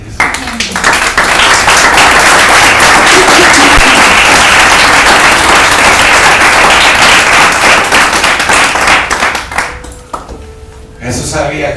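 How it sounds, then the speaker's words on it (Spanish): A church congregation applauding, loud sustained clapping from many people that fills the room for around ten seconds before thinning out, with voices heard near the end. "Puedes dar un aplauso a Dios."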